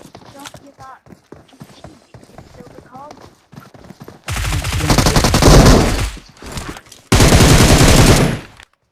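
Rapid bursts of video game gunfire crackle loudly in two long, dense volleys, following a quieter stretch of clicks and scattered sounds that come before.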